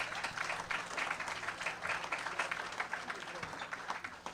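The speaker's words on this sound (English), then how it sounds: "give a round of applause to All Def Digital" Comedy show audience applauding, a sustained wash of clapping with some crowd noise and a voice speaking over it, fairly faint and even throughout.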